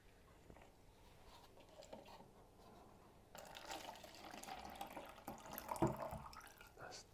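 Tap water starts running partway through, a steady splashing stream over tomatoes being rinsed, loud and close with a brief sharper splash near the end after a quieter stretch of handling noise.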